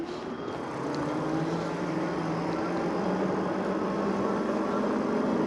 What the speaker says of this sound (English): let's go and try out the acceleration right now with half a battery